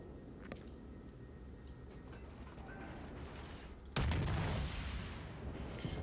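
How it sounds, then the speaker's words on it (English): HE shells from a warship's main guns in World of Warships, one loud booming salvo erupting about two-thirds through and rumbling off, preceded by quieter engine ambience and a faint earlier thud. "Another round of HE going in, although it's completely going to miss the ship."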